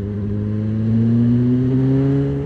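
Custom Honda CBR900RR Fireblade with a race exhaust, engine note rising slowly as the throttle opens, a loud, close, harmonic-rich drone with no voices over it.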